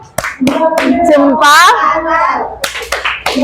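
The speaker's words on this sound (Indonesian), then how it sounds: "beri tepuk salut" A group of children claps in a rhythmic salute pattern, with sharp clustered hand claps spread across the clip and children's voices chanting and calling between them.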